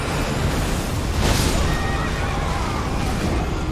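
A horse neighs in the Elden Ring video game, a loud whinny swelling briefly near the middle over a constant dense roar of battle and game ambience, no talk.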